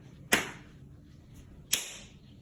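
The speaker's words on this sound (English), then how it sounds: "You just bring one down, hit the hand." Two sharp, crisp slaps about a second and a half apart, each a quick smack of a hand hitting another hand for a stage-combat slap, in an otherwise quiet room.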